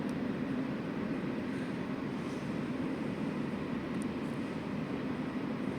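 Airplanes preparing to take off at an airport, heard from near the edge of the airfield, give off a steady, broad engine rumble and whine. The sound is continuous at moderate distance, with no speech.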